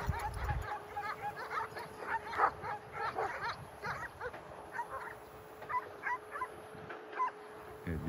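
Akbaş sheepdogs and wild dogs bark, yip and whimper in repeated bursts outdoors at moderate distance, with a person talking intermittently over the dogs.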